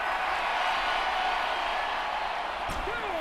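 Stadium crowd in the video game Madden NFL 25, a dense, steady roar of fans at a tense third down, loud and continuous, with a brief thump near the end.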